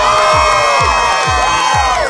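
A loud crowd at a Sonos Studios appearance cheers and shouts over pulsing music, with whoops and a steady rhythmic low beat repeating about twice a second.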